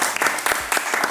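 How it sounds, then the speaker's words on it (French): Brief burst of audience applause at a speed dating event, loud, dense clapping from a crowd with occasional individual claps standing out. "Applaudissez pour lui, s'il vous plaît."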